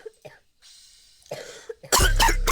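Several short, rough coughs and throat-clearing sounds come close and alone, followed by a loud, harsh burst at the end.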